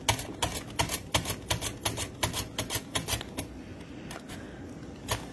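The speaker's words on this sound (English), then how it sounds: "I'm cutting them into rounds like this." A knife slices potatoes into rounds for scalloped potatoes, producing a quick series of crisp, close chopping taps against a board that slows and thins out toward the end.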